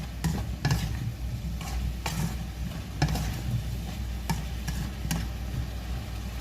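Fish, potatoes and vegetables are stirred in a frying pan, with repeated scraping strokes of a utensil at an uneven rhythm over a continuous close sizzle of frying.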